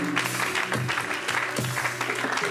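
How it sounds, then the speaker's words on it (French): A church congregation claps and cheers during a worship service, a dense continuous patter of hands with voices mixed in, full and close for the whole stretch. "Est-ce qu'on peut mettre nos mains ensemble et acclamer très très fort?"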